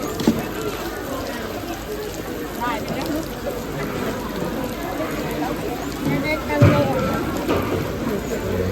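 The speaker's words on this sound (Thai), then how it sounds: "ฝนตก ฝนตก" Rain falling steadily on a surface, a continuous wash of patter with occasional louder splashes nearby.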